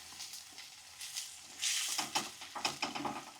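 Onions frying in a pan for a Gujarati kaju gathiya curry, a steady close sizzle with scattered stirring scrapes that swell louder partway through.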